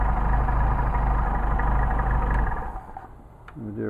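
A Porsche 930 engine idles with a steady, throbbing mid-low rumble, then drops away sharply after a couple of seconds, leaving a quieter tail.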